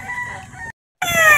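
A young gamecock (stag) at a gamefarm crows loud and close, its call cut off by a short silence before a second strong crow.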